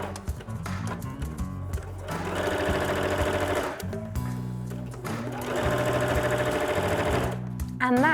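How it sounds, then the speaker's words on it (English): A sewing machine top-stitches Greta dungarees 2 mm from a folded edge, running in two long steady bursts of rapid mechanical whirring with a short pause between them, close and fairly loud. "then we can just top stitch 2 millimeters from the edge that you just folded"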